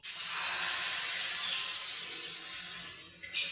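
Rice-flour batter hits a hot pan and sets off a loud, steady hiss that holds for several seconds, then fades slightly with a small clatter at the end.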